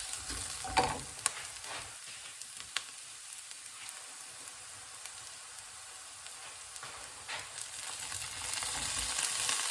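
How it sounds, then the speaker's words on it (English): Steady sizzling of prawns frying in a pan, with a few sharper crackles and pops early on, continuing without any talk. "I guess I'm going to chuck in the prawns next."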